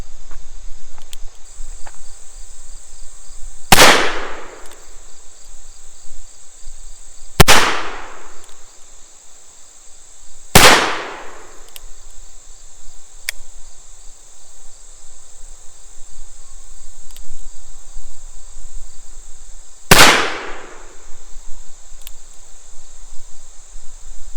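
Shots from a Pietta 1858 Remington cap-and-ball black-powder revolver fired at a quickened pace: four sharp, loud reports spaced a few seconds apart, with a steady insect-like hiss in the background and no talking.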